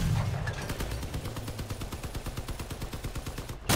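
A tank weapon in the Crossout vehicle combat game fires in rapid automatic bursts, a steady rattling stream of loud shots that runs for several seconds before stopping abruptly.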